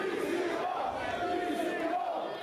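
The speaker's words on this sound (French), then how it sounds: "La foule encourage son Joannais préféré, le légendaire PCO" Wrestling crowd cheering and shouting for the wrestler PCO, a distant, muffled roar of many voices rising and falling briefly.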